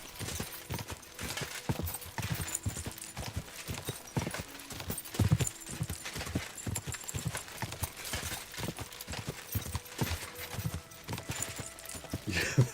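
Horse hooves clip-clop steadily in a video game, a brisk, continuous rhythm of close hoofbeats with a brief whinny, running the whole stretch beneath faint talk.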